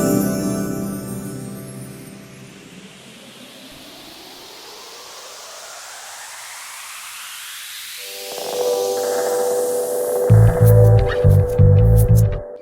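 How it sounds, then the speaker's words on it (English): Music transition effects produced in Logic Pro with reverb: a long rising sweep builds gradually, then a dense processed tonal swell enters with heavy pulsing low bursts near the end, loud and electronic. "let me play back some of these transition effects"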